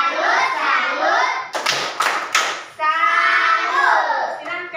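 A group of children and adults performs a rhythmic Indonesian salute clap (tepuk salut) in quick bursts, with chanting voices heard between and over the claps.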